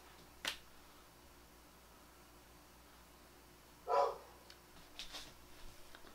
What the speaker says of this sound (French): Le chien de mon voisin.